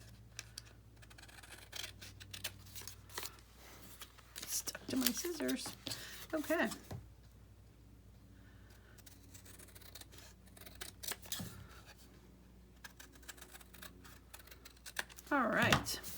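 Scissors snipping through paper while crafting a fall folio from a box and paper, producing a few short crisp cutting bursts near the mic amid quiet handling, with brief speech.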